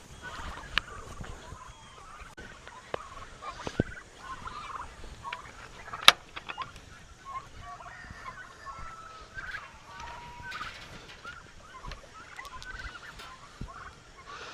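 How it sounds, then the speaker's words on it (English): Turkeys gobble and cluck in scattered bursts around a flock, with a few sharp knocks and occasional soft human calls in the background. "Keep going. There you go. Good turkeys."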